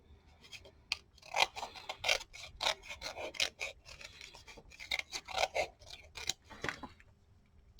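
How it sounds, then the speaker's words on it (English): Scissors cut roughly through chipboard in a craft scrapbooking session, making a run of crisp, close snips and rasping scrapes in uneven bursts with short pauses between. "I like to stick it on and then cut it out with scissors roughly"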